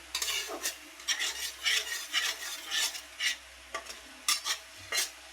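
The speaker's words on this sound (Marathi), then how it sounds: "चांगलं तेलात भाजायचं बरं का" Groundnuts stirred and roasted in oil in a pan, with repeated scraping, clinking stir strokes in bursts over a faint low hum, close and moderately quiet, with no talking.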